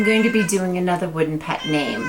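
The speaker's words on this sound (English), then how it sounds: "Yeah, sorry about my cat." A pet cat meows in close, loud, drawn-out cries that sit under a person speaking indoors, the two overlapping for the whole stretch.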